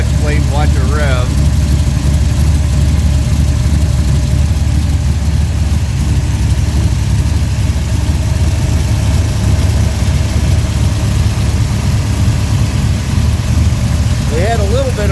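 An all-aluminum Pontiac 522 cubic inch engine with a steel flywheel instead of a flex plate runs loudly and steadily, with a deep, lumpy rumble throughout and brief voices over it.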